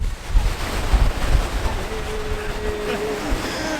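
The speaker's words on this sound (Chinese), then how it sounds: "让大家听听大海的声音。" Ocean waves wash steadily onto a beach in Cornwall at high tide, a continuous broadband roar of surf mixed with wind buffeting the microphone, with no voices present.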